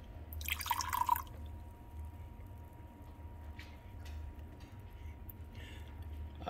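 Homemade muscadine grape juice poured through cheesecloth in a kitchen, a faint brief dribble and splash near the start, then quiet trickling drips over a low hum.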